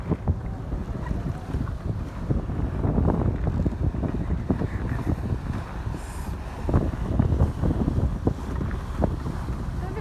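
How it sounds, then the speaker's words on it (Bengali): Large river launch passing on the water, a steady low rumble with churning wash under heavy wind buffeting the microphone, with no clear break throughout. "কত বড় লঞ্চ দেখছস, বিশাল।"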